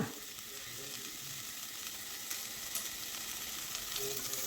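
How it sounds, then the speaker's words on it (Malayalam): Cauliflower and potato pieces sautéing with salt in a pan, giving a steady, soft, even sizzle with faint stirring, heard alone without talk. "ഉപ്പിട്ട് കൊടുത്ത് ഒന്ന് വഴറ്റി കൊടുക്കാം"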